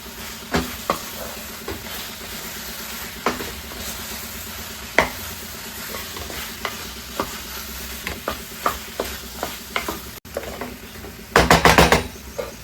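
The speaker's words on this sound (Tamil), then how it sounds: "இதை நல்லா கிண்டி விடுங்க, பரட்டி விடுங்க. மசால் பொடி எல்லா பக்கமும் கோட்டிங் ஆகட்டும்." Chicken pieces being stirred in a pan to coat them with masala powder for South Indian chicken sukka, with a steady sizzle under repeated spoon knocks and scrapes, and a louder burst of clatter near the end.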